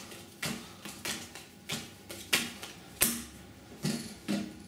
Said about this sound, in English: I'm going to deal 4 carriage cards